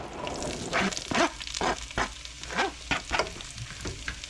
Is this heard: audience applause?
no